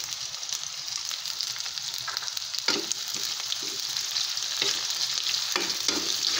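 Red onion sizzling steadily in a hot pan for an adobong sitaw with tofu, a continuous bright frying hiss with occasional stirring scrapes, close and alone without talk.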